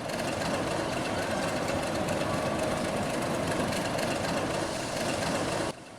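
A locomotive shunting the Parabat Express rake at Kamalapur, backing up after a points change, gives a steady, loud diesel engine rumble that holds even before cutting off near the end.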